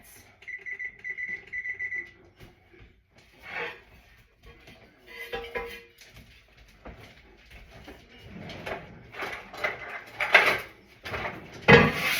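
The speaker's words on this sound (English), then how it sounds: "And I'm going to set the oven for 10 minutes." An oven timer being set for 10 minutes while baking chewy pumpkin cookies gives a sustained electronic beep, followed by a lower tone, button presses and light kitchen clatter, close by with no talking.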